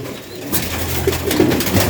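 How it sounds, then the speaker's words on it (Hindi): Pigeons kept by a Pakistani fancier, including black birds readied for a 2025 flying competition, coo softly in short, low, murmuring bursts over steady outdoor background noise, with no talking. "ये इनके कबूतर है जी"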